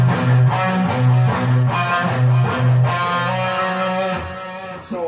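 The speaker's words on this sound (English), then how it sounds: "We're palm muting, by the way." Chunky, distorted electric guitar plays short, damped, palm-muted notes in a steady chugging rhythm, loud and alone, fading slightly at the end.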